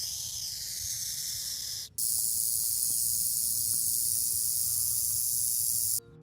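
A burrowing owl gives a warning call that mimics a rattlesnake's rattle, a steady dry buzzing hiss held for several seconds, loud and close, with no voices.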